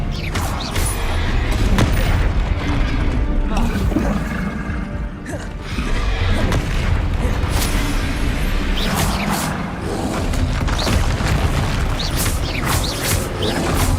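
Spell blasts being cast in combat in the video game Hogwarts Legacy, booming magical impacts and whooshes repeating densely over a continuous loud game soundtrack, with no talk.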